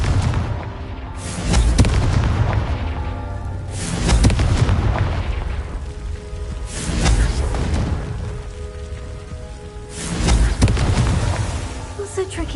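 Repeated loud, deep explosive blasts from a fire-blasting spell in a fantasy game, several booming bursts a few seconds apart, each with a rumbling tail, under bits of speech.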